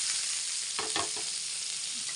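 Fish fries in a pan with a steady, close hiss of sizzling oil. A couple of quick scraping stirs are heard partway through, done to keep the fish from sticking.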